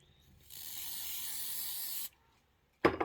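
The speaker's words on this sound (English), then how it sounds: "Doesn't have to be a crazy amount of spray." One continuous spray from a can onto fabric during sewing hisses steadily for about a second and a half and then stops abruptly, followed by a brief loud rustle or tap.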